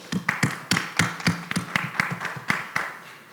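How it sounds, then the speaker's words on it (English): A small audience claps after an academic presentation, with a few hands giving distinct, fairly close claps in a loose, quick rhythm that fades toward the end. "Please give a round of applause."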